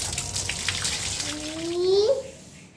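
Water is poured and splashes close by while a small child is bathed at home, a steady running wash that ends in a short rising squeak before fading out.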